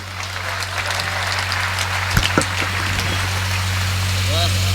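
Audience clapping at a Hindi poetry recital, a steady wash of applause over a constant electrical hum, with a brief spoken sound near the end.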